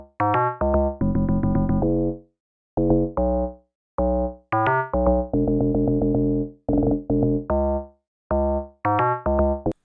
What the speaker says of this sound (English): Then I added my log drums, which are this right here.